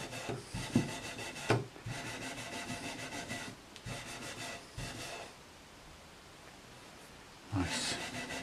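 Frets on a vintage Sakai/Audition electric guitar buffed by hand with rhythmic rubbing strokes in bursts, separated by short pauses and a quieter stretch near the end.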